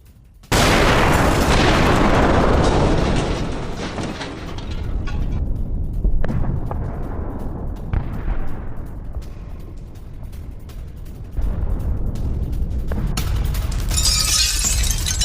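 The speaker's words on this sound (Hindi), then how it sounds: "माइंस लगाकर डिपो को उड़ा दिया गया। धमाकों में हिजबुल्लाह को भारी नुकसान की खबर सामने आ रही है।" Explosions from mines set to blow up a Hezbollah military depot, starting with a huge sudden blast followed by a roaring rumble and further booms and cracks, loud and distant-sounding, with no voices.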